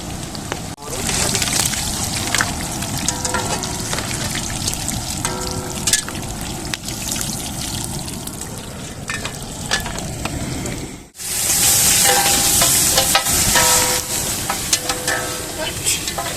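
Onions fry with masala in a large pot for mutton mandi, hissing and sizzling steadily throughout with stirring and sloshing, briefly dipping before the sizzle swells again.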